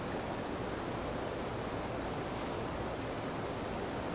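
Colombian empanadas fry in hot oil at around 350 to 370 degrees, giving a steady, faint, even hiss of bubbling with no pauses and no voices.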